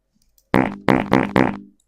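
A quick, dry soundboard fart effect plays as four short, sharp, buzzy bursts in rapid succession after a moment of silence, close and clear.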